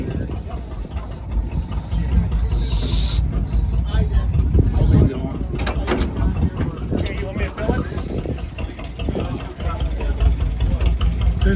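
Antique tractor with exposed valve springs and a galvanized handmade cab idling at an outdoor display, a steady low rumbling chug under wind noise and nearby voices.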